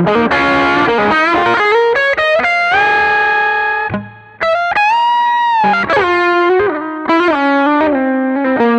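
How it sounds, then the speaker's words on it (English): Electric guitar played through the bridge pickup with overdrive and a touch of delay, sustained distorted melodic lines ringing out with echoing tails, loud and close with no talking. "I'm on bridge pickup on this guitar, and I've got that overdrive sound. I've just added a little bit of delay"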